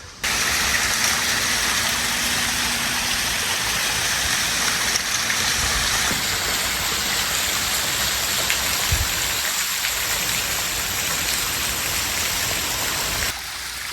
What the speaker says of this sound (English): It's that waterfall.